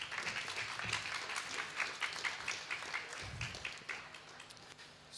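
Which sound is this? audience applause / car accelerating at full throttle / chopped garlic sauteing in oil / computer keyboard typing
audience applause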